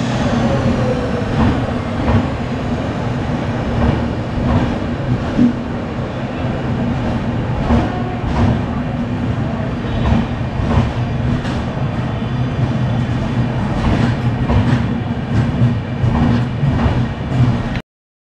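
Steady rumble of a moving special train toward Ramanathapuram, heard from inside the carriage, with a low droning hum and irregular clacks and knocks over the wheels running throughout.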